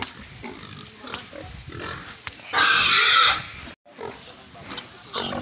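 A pig being hauled on a farm squeals loudly in one harsh burst of about a second, with scattered grunts, shuffling and handling noises around it.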